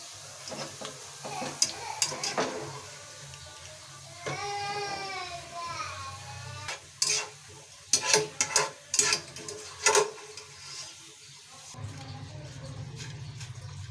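Sliced onions frying in a pan until lightly browned, a soft low sizzle broken by sharp spoon scrapes and clatter, with a voice briefly heard over it.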